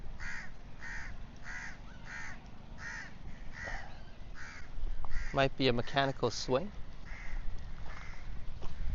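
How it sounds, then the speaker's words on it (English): Crows caw repeatedly in a seaside park, a regular series of harsh calls at a steady rhythm, some nearer and louder, while someone talks briefly partway through. "the birds are screaming and telling each other"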